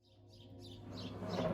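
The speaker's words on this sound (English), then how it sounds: "The birds came back." Birds chirping faintly in the distance in short repeated bursts, growing slightly louder over a low steady background hum.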